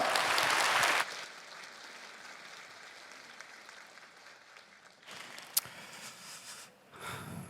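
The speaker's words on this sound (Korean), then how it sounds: "우리 박수로 맞이하겠습니다." Church audience applauds to welcome a pastor's lecture at a leadership training gathering, a loud burst for about a second, then fading into quieter scattered clapping and room noise with a sharp knock later.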